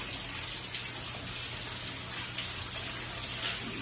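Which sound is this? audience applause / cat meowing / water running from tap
water running from tap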